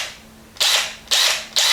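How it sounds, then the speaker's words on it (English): Black & Decker 20-volt cordless drill driver making three short loud bursts of high whirring and ratcheting, each starting abruptly and tailing off, with a faint steady hum between them. "when you use the drill driver, you can feel it twist against your hand a little bit"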